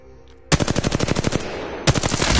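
Automatic weapon fire in Apex Legends, a loud rapid burst of evenly spaced shots lasting over a second, a brief pause, then a second burst starting up, close and dominant.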